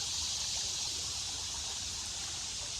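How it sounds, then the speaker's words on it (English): Water of Big Creek flows steadily over rocks in a woodland setting, a soft, continuous hiss and trickle heard alone at low volume. "So I'm hanging out by Big Creek"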